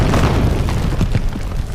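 A sustained, loud explosion in Star Wars: The Clone Wars animation, a dense rumbling roar with scattered pops and crackles running throughout, no voices present.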